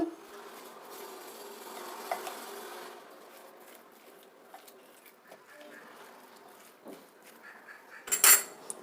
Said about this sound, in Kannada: ಇದನ್ನೀಗ ಚೆನ್ನಾಗಿ ಮಿಕ್ಸ್ ಮಾಡಬೇಕು